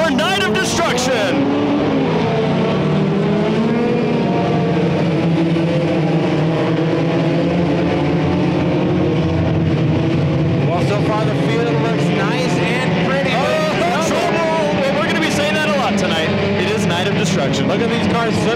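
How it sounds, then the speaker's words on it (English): Race cars on street tires in a Night of Destruction enduro at Irwindale roar and slide through the corners, a loud continuous pack of engines under constant commentary from an announcer. "Look at these cars slipping and sliding through the corners."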